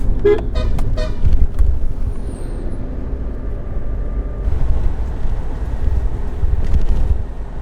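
A Suzuki Jimny drives along a rural road, its engine and tyre rumble low and steady under buffeting wind noise, with a few short toots early on.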